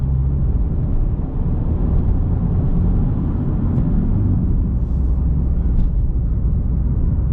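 A 2022 Subaru WRX fitted with Carbotech AX6 front brake pads takes corners, heard from inside as a loud, steady engine and road drone that rises and settles slightly.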